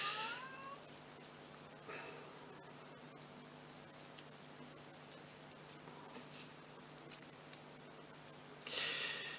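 A cat meows insistently outside a room door, a few short muffled cries at a distance against a faint hiss and light rustling.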